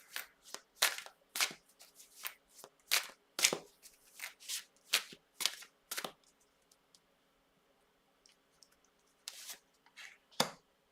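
Tarot cards being shuffled up close make quick, crisp riffling bursts in a steady, uneven rhythm, followed by a near-quiet pause and a few last flicks and taps.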